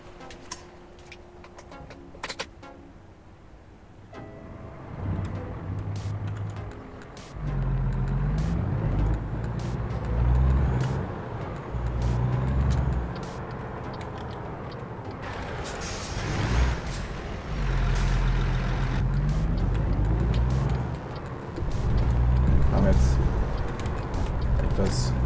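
Heavy truck driving uphill in American Truck Simulator, a deep engine rumble that surges and dips as gears change, with an air-brake hiss, under nearly continuous talking.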